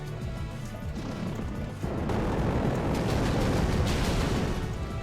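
Volcanion's Searing Shot fire attack in Pokemon Alpha Sapphire: a dense, roaring burst that swells after a quieter start into a sustained crackling blast of explosive noise, loud and continuous to the end.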